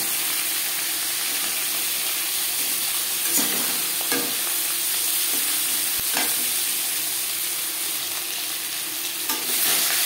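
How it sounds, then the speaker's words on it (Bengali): Katla fish head frying in hot oil: a steady, close, broadband sizzle that continues for the whole clip, with a few brief stirring or turning scrapes and no talk. "মাছের মাথা ভাজা হয়ে গেছে"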